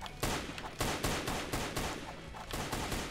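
Rapid bursts of gunfire in a Roblox Arsenal match, with several sharp, loud shots at a steady rhythm and no talking.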